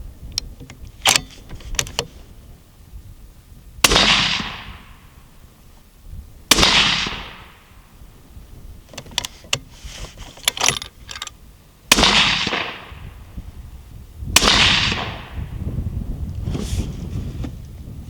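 Remington rifle fires shots at an outdoor range, five loud cracks spaced several seconds apart with ringing decay, and quieter handling clicks between them.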